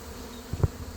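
Honeybees buzzing during a hive removal from a mobile home in Lakeland, Florida, a steady close drone with a few louder passes as bees fly near, no voices.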